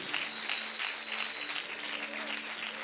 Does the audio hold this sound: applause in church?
yes